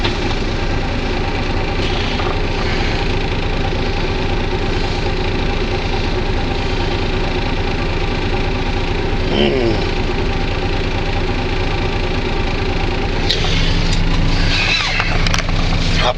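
A truck's engine idles steadily at close range with its brakes set, a constant low rumble and vibration that holds unbroken throughout, with faint clanks near the end.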